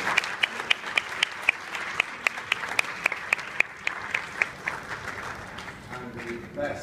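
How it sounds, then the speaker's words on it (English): A small group in a restaurant kitchen during a cook-off claps, about twenty sharp, evenly spaced claps standing out over a soft murmur of crowd noise, fading into quieter shuffling at the end. "Give them a round of applause, please."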